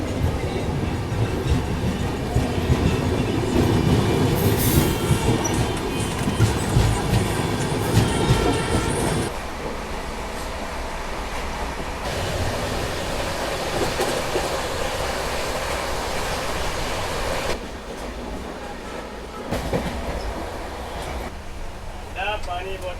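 An express train pulls out of Kurukshetra Junction, its carriages rumbling with a steady clickety-clack of wheels over rail joints, heard from inside and fairly loud, with the tone shifting in stretches as the train gathers pace.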